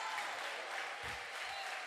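A church conference audience applauds in a dense, steady wash of many hands, fairly quiet and distant, with no voices standing out over it.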